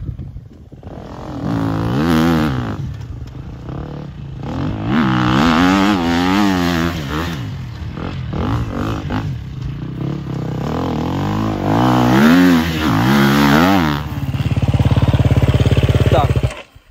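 Motocross motorcycle engine from a played-back riding video, revving up and down in repeated loud surges with rising and falling pitch, continuing throughout at close range.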